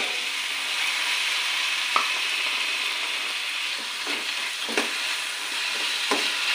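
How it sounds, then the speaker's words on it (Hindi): Chopped tomatoes hitting a paneer bhurji pan on medium flame, a steady dense sizzle with a few scattered knocks and scrapes of stirring over about six seconds. "अब हम इसके अंदर डाल देंगे जो कटा हुआ टमाटर है हमारे पास उसको"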